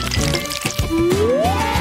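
Sour candy and jam are poured onto a plate of spaghetti, giving wet drips, squishy plops and a rising liquid fill sound close up.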